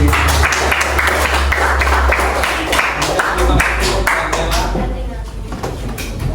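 Students in a classroom clap during a teaching practice lesson, a loud continuous patter of hands that thins toward the end, with a voice talking over it.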